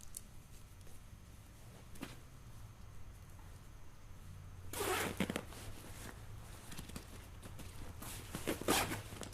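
A zipper closes a flap on an Eberlestock Skycrane II tactical backpack, heard as two brief, quiet zipping rasps several seconds apart over faint handling noise.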